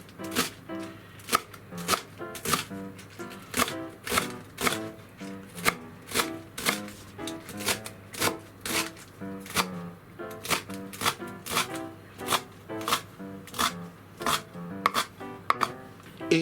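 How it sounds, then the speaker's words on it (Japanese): A knife finely minces garlic chives (nira) on a cutting board in a home kitchen, a steady run of quick, crisp chops heard close up with no talking. "じゃあニラをみじん切りにまず半分に切って、はいやっていきます。"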